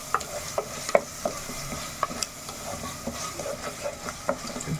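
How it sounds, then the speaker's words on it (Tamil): Ginger garlic paste sautéing on a low flame, a soft steady sizzle punctuated by light scraping taps of a spoon stirring in the pan. "அடுப்பை குறைச்சி வச்சு ஒரு நிமிஷம் நல்லா வதக்கிக்கலாம்"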